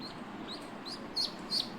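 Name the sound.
ducklings peeping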